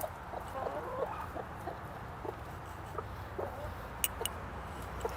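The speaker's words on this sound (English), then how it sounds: "We've had chickens for, I don't know, quite a while." Hens cluck softly and steadily amid outdoor background noise, with a couple of sharper clicks near the end.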